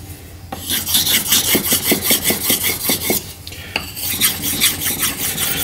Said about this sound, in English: I was just sharpening here trying to get my bevel.